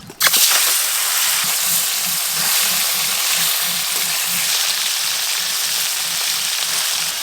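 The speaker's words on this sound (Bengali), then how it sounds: "শিঙি মাছ কিন্তু খুব বেশি কড়া করে ভাজার দরকার নেই, যেহেতু ঝোল করব হালকা করে ভেজেই তুলে নেব।" Singhi catfish lightly frying in hot oil in a pan, with a loud, continuous close-up sizzle and spatter that holds steady throughout, no voices.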